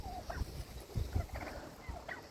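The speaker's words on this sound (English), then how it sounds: "Turkeys, you are silly." A pet farm turkey gobbles in several short rattling bursts, close and moderately loud, with quiet outdoor background between calls.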